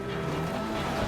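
Armored Kuruma car driving off-road in GTA Online, a steady loud engine roar with rough tire and skidding noise running unbroken through the whole moment.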